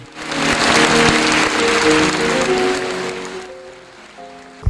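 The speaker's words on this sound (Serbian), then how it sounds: "O reakciji pirotske publike govori aplauz koji su dobili glumci." Sustained applause from a theatre audience in Pirot for the actors after a play, a dense, steady wash of clapping that slowly fades toward the end.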